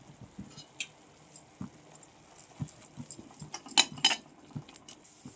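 Prawns dusted with chili powder stirred in a cooking pan, a spoon clinking and scraping against metal in scattered light taps that bunch into a busier clatter midway, close and fairly quiet with no talking.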